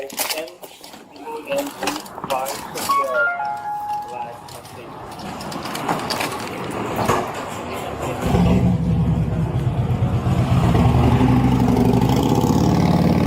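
A motorcycle engine rumbles loudly and steadily outside a pawn shop, rising in the latter part, while people talk over it nearby.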